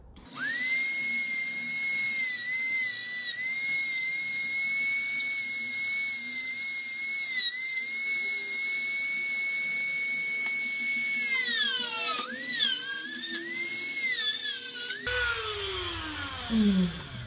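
A Dremel rotary tool cutting into a shell gives off a loud, close, high-pitched steady whine that holds for about twelve seconds, then wavers and drops in pitch as the load changes and spins down near the end.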